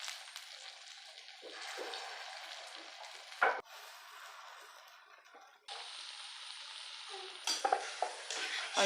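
Dal fritters (dal bora) fry in hot oil with a steady close sizzle and bubbling, a couple of brief clinks and stirring scrapes, and a short pause before the frying noise returns.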